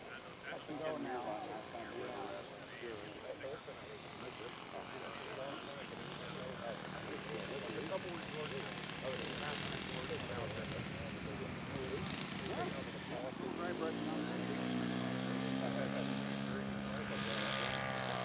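Scale model aircraft built from a Proctor kit with a Laser 70 engine flying a touch and go, its steady propeller drone rising in pitch toward the end under continuous announcer commentary.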